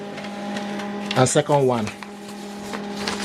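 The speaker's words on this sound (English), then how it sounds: "So it will copy this document twice." An HP LaserJet MFP M140we all-in-one printer copying a document gives off a steady mechanical hum with faint clicks throughout, while a person talks briefly over it midway.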